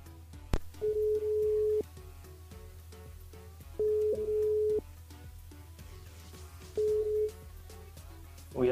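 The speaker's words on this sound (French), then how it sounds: "on appelle Tony, du côté de la plaine des Caves." Telephone ringback tone during a live call-in radio show, three steady beeping rings spaced a few seconds apart over a faint background hum, with no talking.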